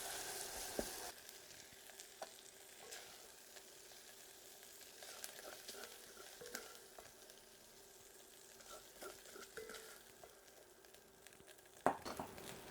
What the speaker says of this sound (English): now the beef is pretty much fried